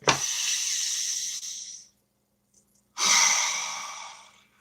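Two deep breaths come close to the microphone: a long airy breath, a short pause, then a second strong breath that slowly tapers off.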